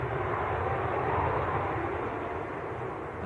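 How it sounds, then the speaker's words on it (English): A VistaJet Legacy business jet at Manchester Airport gives a steady, broad engine roar that holds at an even level for the whole stretch, with no voices over it. "A VistaJet Legacy."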